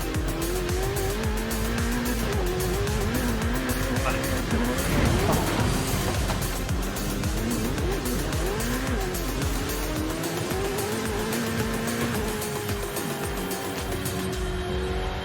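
A car races in Forza Horizon 5, its engine revving hard with loud, sustained tire squeal and skidding through turns, and a voice speaks briefly over it.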